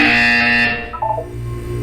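A loud electronic buzzer from Portal 2 drones for about a second, then drops into a lower sustained synthetic tone.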